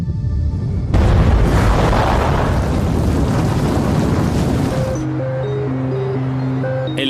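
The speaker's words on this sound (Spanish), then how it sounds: "5 y 7 torpedos habían estallado casi a la vez." Torpedoes detonating aboard a Russian nuclear submarine erupt in a sudden, loud, rumbling blast that roars for several seconds, then cuts off as a low sustained tone and soft musical notes take over.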